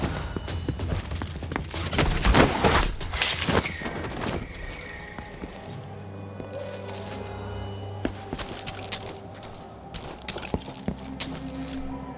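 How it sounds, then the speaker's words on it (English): Gunshots in Dishonored 2 crack in a cluster of sharp bursts early on, followed by scattered metallic clicks and rattles over a quieter, rumbling background. "Someone's shooting at us!"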